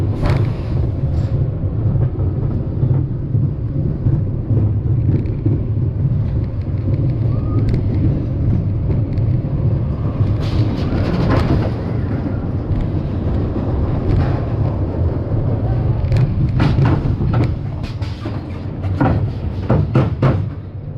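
Riding the Vol d'Icare roller coaster at Parc Astérix brings a loud, continuous rush of wind buffeting the microphone, with deep rumble and scattered rattles and clanks from the train throughout.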